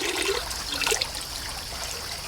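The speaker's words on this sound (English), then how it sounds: "I'm pouring the water in there as fast as I can with this watering can" Water from a watering can trickling and splashing steadily into a plant pot, fairly quiet and continuous for a couple of seconds, no voices.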